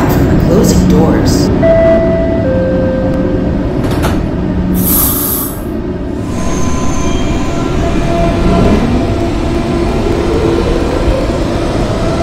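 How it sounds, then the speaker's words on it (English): A Jamaica-bound E subway train rumbles loudly along the track, with a steady roar, brief wheel squeals and chimes near the start, and an announcement voice over the noise. "This is a Catlin-bound E train"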